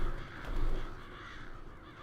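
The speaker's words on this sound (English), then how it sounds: "Crows?" Crows caw in Resident Evil 5 over a dense, loud game ambience that mostly masks them, so the calls blur into a continuous background wash.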